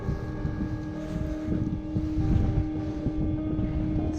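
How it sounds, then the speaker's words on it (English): Wind blows at an Arctic creek in Lapland, making a steady, buffeting roar with gusty low rumble against the microphone, continuous and close throughout with no voices. "It's so windy though."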